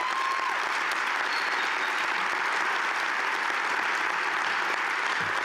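A large audience at a college commencement ceremony claps in a long, steady, dense round of applause that fills the hall without letup.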